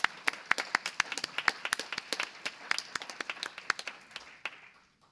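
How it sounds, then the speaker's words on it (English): A small audience at a creative writing competition awards event claps for the winners, a sparse scatter of distinct, close handclaps that thins out and fades to silence. "how about a round of applause for all of them?"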